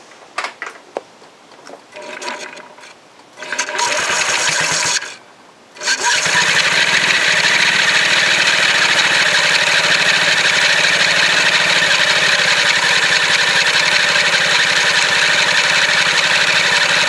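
A Honda Ruckus scooter engine sputters and catches after a few attempts, then settles into a steady, loud, close idle that continues alone.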